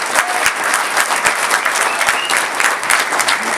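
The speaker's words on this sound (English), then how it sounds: "yes, let's cheer for that." A crowd at a statue unveiling in Houston breaks into sustained applause and cheering, dense and fairly close, with a few sharp individual claps standing out.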